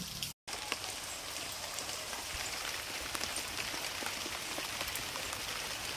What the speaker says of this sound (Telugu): రాత్రి నుంచి ఒకటే జల్లు.